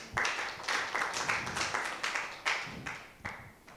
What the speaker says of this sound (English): So giving applause again to Mr. Ari and Mr.